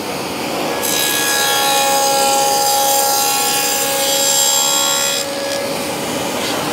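A saw run against a fence cuts a dado in timber, giving a steady, loud, high whining drone that holds for about four seconds and then drops off as the cut ends.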